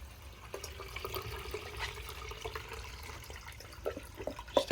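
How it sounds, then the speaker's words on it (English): Water trickling and gurgling as it flows through an opened skimmer valve into a leaking swimming pool pump, priming it; a steady, fairly faint wet rush with small drips and splashes, no talking. "Open the skimmer valve, and as it's below water, it'll prime itself up."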